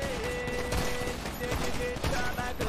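Rapid bursts of video game gunfire in GTA 5 roleplay, a dense fusillade of shots crackling through a busy mix with people talking over it.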